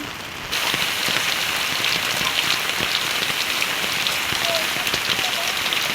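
Heavy rain falls steadily on a village road, a dense, close hiss of drops on surfaces that continues throughout, with faint voices now and then.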